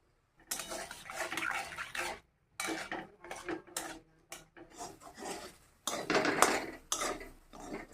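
Metal scraping and clattering in a wok while cooking mukhi kochu (taro) with salt and turmeric, a series of rasping stirs and knocks separated by brief pauses, close and fairly loud.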